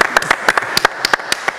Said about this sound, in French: Oui, on peut même applaudir